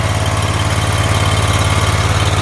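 A DISSCO Paviseal tanker unit's engine runs at a steady throttle, a loud, close, continuous mechanical drone with a fast regular pulsing throb and no voices.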